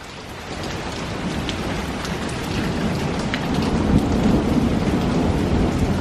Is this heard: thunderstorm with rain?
yes